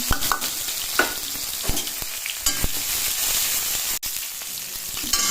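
Crushed garlic hits hot oil in a pan for fenugreek greens, giving a steady close sizzle and crackle with scattered stirring clicks throughout.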